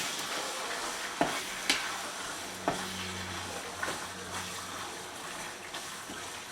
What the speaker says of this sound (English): Now that I have my plate, I'm going to stir it one more time.